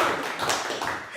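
Applause at a live-streamed event honoring club staff, a short steady patter of clapping hands lasting about a second, with no talk over it.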